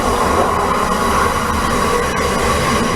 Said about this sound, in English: That train comes by every 5 seconds